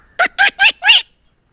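A voice mimics the alarmed call of the Western tragopan (jujurana), a Himalayan pheasant, with four loud, close, harsh honking notes in quick succession, the last one longer.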